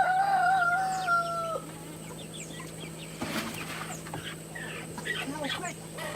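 Chickens cluck and squawk in agitation, one loud harmonic call up close at the start, followed by scattered quieter clucks and chirps against a steady background hum, with a brief burst of noise midway.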